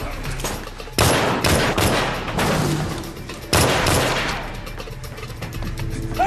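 Loud bursts of gunfire crash through a crime thriller TV scene, with dense overlapping shots and reverberant blasts layered over a busy mix, two heavy volleys standing out.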